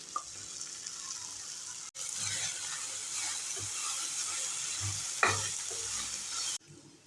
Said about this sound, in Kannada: ರುಬ್ಬಿಟ್ಕೊಂಡಿರುವಂಥ ಮಸಾಲೆನ ಹಾಕ್ತಾಯಿದ್ದೀನಿ